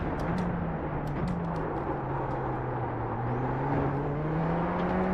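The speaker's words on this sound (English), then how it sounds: "Hey, turbo sound is great." A turbocharged race car engine in iRacing holds a steady, whirring drone with a slowly rising and falling pitch, close and continuous, with a faint turbo whine above it and no pauses.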